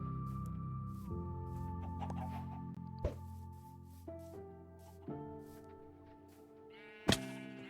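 Bleats from a sheep in a video game sound faintly now and then over background music. A few sharp hits land at regular intervals, and a shrill bleat comes near the end.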